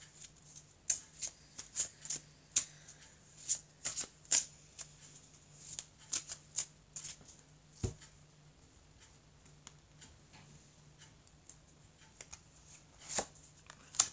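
Oracle cards being shuffled by hand, a run of crisp riffling snaps and soft slaps with irregular pauses, close and moderately quiet, with no talking.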